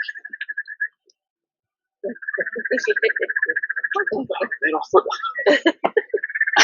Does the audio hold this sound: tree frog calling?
yes